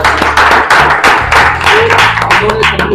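Audience applause for founder Dr. Anpal at a direct-selling business gathering: a loud, dense wash of clapping that surges in bursts over a steady low musical backing, with a voice briefly audible.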